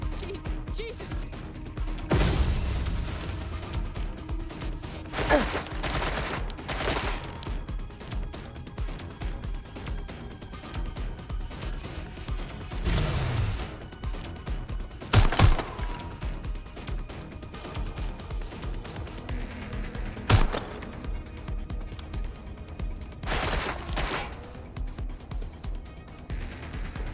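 Scattered gunfire in the video game Watch Dogs Legion, sporadic sharp cracks and thuds at moderate distance over a quieter ambient bed, with a few louder bursts spaced several seconds apart.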